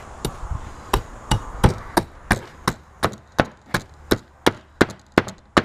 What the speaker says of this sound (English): I like to open this part of skin with my cleaver